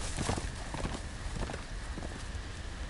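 Horse hooves in a Game of Thrones game, a brisk series of clip-clop strikes over a noisy bed, fairly close and continuous without talk.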